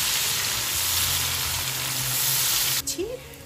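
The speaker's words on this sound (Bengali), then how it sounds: "একটু আস্ত জিরে, একটু ফোড়ন দিয়ে দিই" Whole cumin seeds sizzle steadily in hot oil for a Bangladeshi fish dopiaza, a dense close frying hiss that cuts off near the end, leaving quieter stirring clatter.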